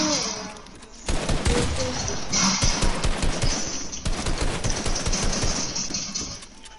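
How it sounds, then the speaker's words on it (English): Dense gunfire in a shooter video game, with rapid overlapping shots erupting after a brief quiet start and continuing in loud bursts to the end. "You're shooting me"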